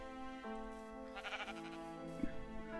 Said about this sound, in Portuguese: Tem uma ovelha ali querendo ser coletada e eu posso salvá-la.